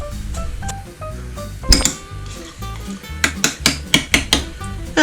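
Sour cream, chives and a pinch of salt stirred together in a bowl, with a spoon clinking and scraping against the dish in a run of sharp, near taps, mostly in the second half.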